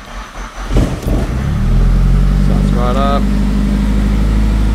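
Nissan Pulsar GTiR engine idling, then revving briefly as the throttle is tapped, with a loud steady rumble and a short rising whine near the end. A person speaks briefly at the start.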